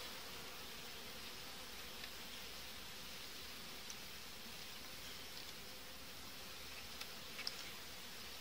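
Honey bees buzz around a hive frame in an August colony, making a faint, steady hum that runs evenly throughout.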